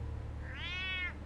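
A cat in the video game Batman: The Telltale Series gives a single clear, rising-then-falling meow lasting about half a second over a low background hum.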